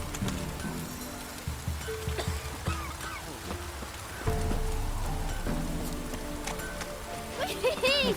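Steady rain falling in the video game The Witcher 3, a constant hiss of drops spread across the whole clip, with voices talking and occasional clinks and hoof-like clops in the mix.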